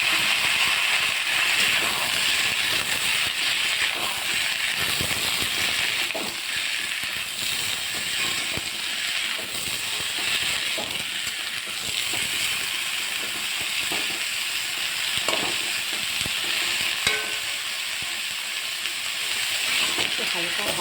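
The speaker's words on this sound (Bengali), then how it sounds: "এবারে এর মধ্যে আমি সবজিগুলো ঢেলে দেবো।" Mixed vegetables tipped into hot tempered spices in a pan for a red amaranth curry, giving a continuous loud hissing sizzle with scattered crackles and scraping throughout.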